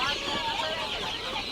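Chirping and cheeping of poultry chicks, including turkey poults, at a bird market in Khazorasp, a busy layered peeping close by with background voices.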